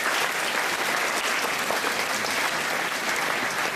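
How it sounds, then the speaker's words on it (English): Students at an international school opening assembly give their teachers a round of applause, a loud, dense, even wash of many hands clapping at once with no pauses. "Students, join me in giving your teachers a round of applause as well."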